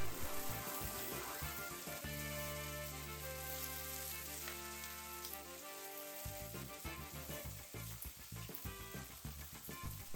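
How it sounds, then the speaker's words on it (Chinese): Pan-fried sea bass pieces tossed with bell peppers and scallion in a wok sizzle steadily with quick stirring scrapes, loud and close, over a faint sustained background tone. "之前煎好的鱼肉放进去， 翻炒几下，"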